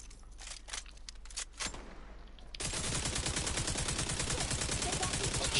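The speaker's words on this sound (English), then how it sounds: "Shoot them with machine guns" Rapid machine gun fire in The Division 2, a dense continuous burst that starts abruptly partway through and stays loud to the end, after quieter scattered shots.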